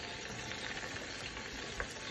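Habanero glaze simmers in a pan over medium-low heat, giving a soft, steady bubbling hiss that stays even and fairly faint for the whole short stretch.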